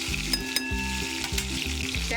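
Raw jackfruit curry with chillies frying and being stirred in a pan, a soft sizzle with light stirring under louder tonal background music with a clear beat.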